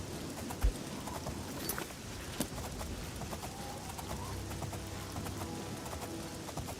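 Horse hooves clip-clopping during a ride in the video game Oblivion, a faint steady trot under ambient bird coos, with a couple of louder knocks.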